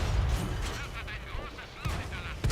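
Tank cannon fire in World of Tanks on Xbox, with booming shots and mechanical clatter, a heavy blast at the start and more bursts later, while a player talks.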